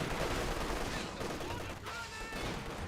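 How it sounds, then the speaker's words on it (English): An MG34 machine gun fires incendiary rounds in Company of Heroes 2, a rapid rattle of bursts amid a thick, noisy battle mix with a voice talking over it. "Oh, we got incendiary rounds from the MG34."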